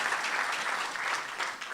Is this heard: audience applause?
yes